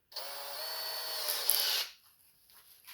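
A power drill fitted with a 1/4 inch bit whirs steadily for under two seconds while making a custom fishing spinner. The high motor whine is close and clear, then cuts off abruptly into near silence.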